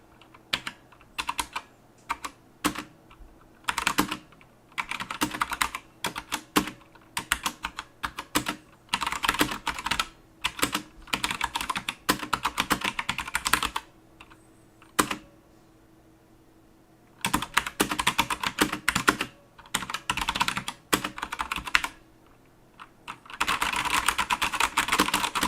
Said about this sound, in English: we're just going to go into a sound test of how these knockoff Cherry MX Reds sound when you type on them at various speeds